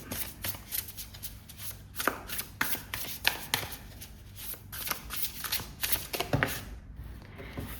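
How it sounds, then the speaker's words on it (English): Tarot cards are shuffled by hand nearby, a quiet run of rapid papery riffles and soft slaps repeating in irregular bursts throughout, with no voices. "let us get shuffling to see what's in store for you."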